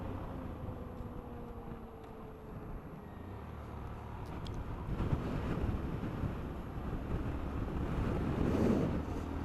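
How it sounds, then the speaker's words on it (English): Wind blows outdoors in a steady low rushing roar with some microphone buffeting, swelling slightly midway and holding at a constant, moderately loud level. "Where's the wind coming from?"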